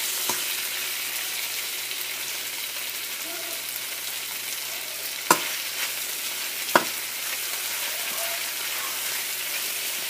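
Beef frying and being stirred in a hot pan, a steady close sizzle throughout with two sharp scrapes or clinks of the utensil against the pan partway through.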